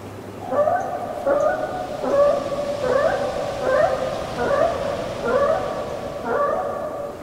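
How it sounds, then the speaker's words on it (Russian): Radio-controlled pterodactyl toy giving repeated synthetic screeching cries, about eight short rising squawks in a steady rhythm, loud and close, with no talk. "максимально адаптированы к крику настоящего птеродактиля"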